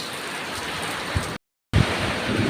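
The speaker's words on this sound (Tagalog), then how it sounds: "Ang lakas-lakas ng ulan, oh." Steady, dense heavy rain from a rainy-season downpour in the Philippines hisses across the whole clip, with a brief silent gap in the middle and a few low thumps.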